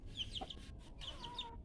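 Chickens in a rural household coop give soft, repeated clucks and short high calls across the whole moment, at moderate distance over a low background rumble.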